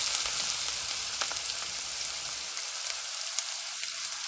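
Onions sautéing in a pan for a vegetarian Manchurian, giving a steady, close frying sizzle with scattered small crackles throughout and no voices.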